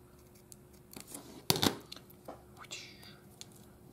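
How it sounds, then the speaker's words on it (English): Scissors snip through a paper sculpture piece for a children's craft lesson, a few crisp cuts with a louder burst near the middle, under quiet room noise. "and then cut this part off"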